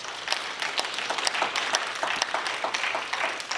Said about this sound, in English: Give Jerry Revish a round of applause for me, please.